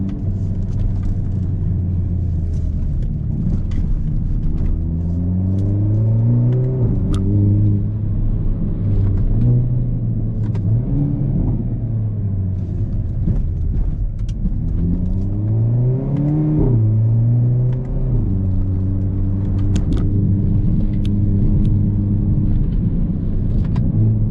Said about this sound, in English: Oh, that whine from the turbo is so good.